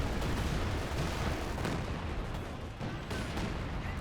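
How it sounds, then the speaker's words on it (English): Artillery strike in Company of Heroes 2, a barrage called in by the Major: a dense, continuous rumble of blasts and crackling impacts, loud and close throughout, with no voices. "Major called on artillery."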